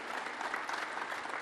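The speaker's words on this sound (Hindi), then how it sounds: "इसके लिए जोरदार ताली बजा दो भाई अशोक मंडल के लिए।" Audience applause for Ashok Mandal at a yoga and Ayurveda gathering: a short, steady burst of many hands clapping together, dense and even throughout, with no voices over it.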